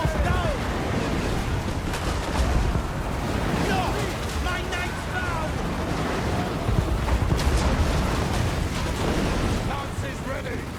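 Cannon fire booms through a Total War: Warhammer battle, a dense continuous roar of artillery and explosions with crackling impacts layered throughout, loud and unbroken.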